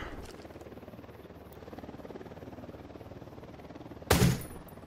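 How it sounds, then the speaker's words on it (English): A helicopter in a shooter video game, a steady rhythmic rotor thump throughout at moderate distance, broken near the end by a single sharp gunshot crack. "Oh, but look at that. There's a helicopter."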